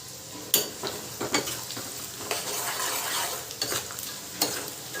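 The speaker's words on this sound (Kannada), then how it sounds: "ಸೊ ಇದನ್ನು ನೀಟಾಗಿ ಫ್ರೈ ಮಾಡ್ಕೊಳ್ಳೋಣ." Mustard seeds, coconut and roasted gram fry in a pan over low heat, a steady close sizzle broken by repeated sharp scrapes and clatters as the mixture is stirred.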